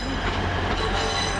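A British Rail Class 180 train rumbles steadily past at close range near Hull, a dense, loud rail noise with faint wheel squeal over the brief moment.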